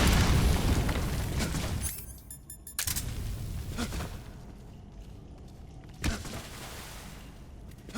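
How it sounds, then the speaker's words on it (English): A barrel bursts in a heavy, loud boom in Metal Gear Solid Delta, its rumble fading into a long roaring tail, followed by a few sharp pops and one more thud. "Take him out from a distance with the exploding barrel."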